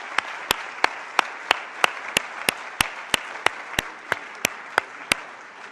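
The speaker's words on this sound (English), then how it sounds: "One more round of applause for our tremendous speakers" At a conference on family-friendly policy, evenly spaced sharp claps ring out about three times a second over a quiet room, forming a steady, close, rhythmic beat with no talking.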